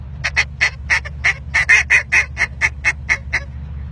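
Soft, light calling on a duck call aimed at finishing ducks: a rapid run of about fifteen short quacks in quick succession, close and moderately loud over a low background hum.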